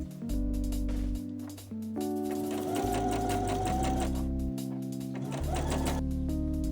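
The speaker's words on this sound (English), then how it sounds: "Using a regular straight stitch, sew along the edges of the folds" A sewing machine runs a straight stitch along the folded edges of a front slit in a bias-cut skirt, its motor whirring steadily and close by in long continuous bursts with short pauses between them.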